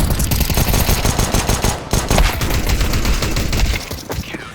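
Rapid automatic gunfire from Counter-Strike 2 on the Nuke map, loud dense bursts of shots crackling continuously without a break, with no voices over it.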